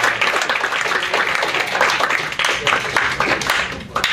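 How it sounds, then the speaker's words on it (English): A youth group claps steadily and loudly throughout, a continuous patter of many hands with no talking standing out. "Give her a clap."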